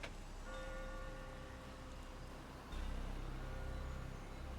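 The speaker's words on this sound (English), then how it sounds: "The faint sound of a ticking clock" A clock ticks faintly in the Rain Code detective video game, a soft steady tick under a dense wash of rain and low rumble.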